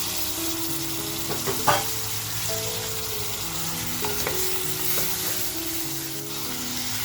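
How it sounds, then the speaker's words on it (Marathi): Plain washed mutton frying in a homemade masala paste in a pan, a close, steady sizzle with occasional spoon knocks and scrapes, no voices over it. "ते मटण आता आपण ह्या मसाल्यामध्ये टाकून छान असं फ्राय करून घेऊया"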